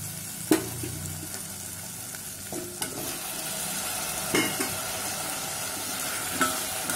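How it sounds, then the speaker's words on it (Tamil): Garlic and potatoes sauté in a pan for a white peas masala curry, a steady soft sizzle with a few sharp scrapes and clinks of a spoon stirring, close and alone. "சேர்த்து நல்லா வதக்கிட்டு உருளைக்கிழங்க சேர்த்துற வேண்டியதுதான்."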